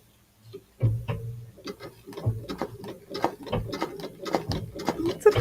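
A sewing machine runs in short, uneven bursts of rapid ticking stitches, starting and stopping as straight lines are sewn, close and fairly quiet with no talk.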